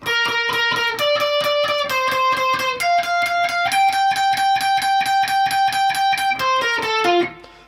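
An electric guitar plays a riff, quick and steadily picked with a gritty, effected tone, repeating notes in a driving rhythm before stopping abruptly.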